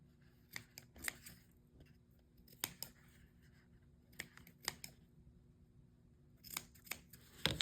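Scissors cut fringes into a paper candy bar wrapper with small crisp snips, heard close and quiet in short irregular groups separated by pauses.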